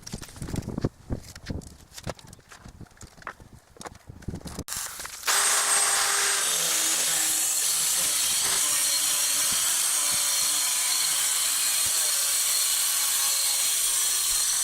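A wet tile saw cuts a granite countertop, its trigger held down by a clamp: a loud, steady high-pitched whine that starts abruptly after scattered tapping and knocking, then runs unbroken to the end.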